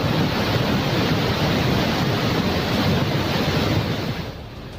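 Floodwater after a cloudburst in Dharali, Uttarkashi, a dense, continuous roaring rush of torrent, loud and unbroken with no voices, easing slightly at the very end.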